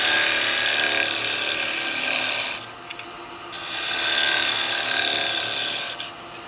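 A lathe gouge takes a slow cut through wet eucalyptus wood while turning a cowboy hat, a steady broad rasping hiss that runs loud and close, drops away briefly midway, then returns and continues alone.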